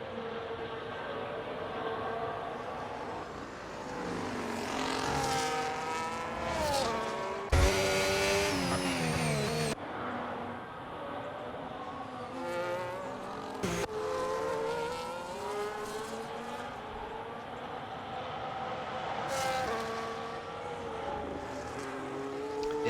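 A race car laps the Brazil circuit, its engine note climbing and falling through gear changes, passing close with a harsh roar and short bursts of noise, no talking over it.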